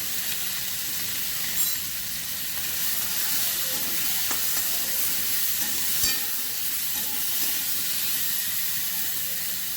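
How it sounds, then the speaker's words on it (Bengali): Spices frying with salt, turmeric and cumin powder in a hot pan for a bitter chorchori, giving a dense continuous close sizzle with occasional stirring knocks and no talking. "এবার একটু ভেজে নেব"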